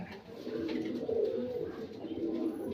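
Pigeons in a loft give low, rolling coos that continue steadily throughout. The birds sound close, with a faint murmur of background noise.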